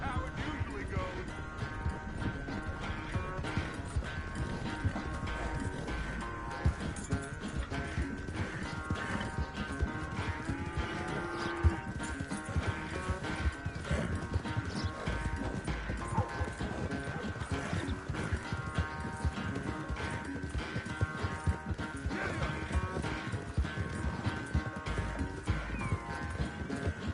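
In Red Dead Redemption II, a horse's hooves clip-clop in a rapid, rhythmic gallop throughout, set under spoken dialogue and background game music.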